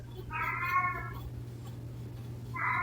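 A domestic cat lets out two drawn-out meows from the background, one long call early on and another starting near the end, over a constant low indoor hum.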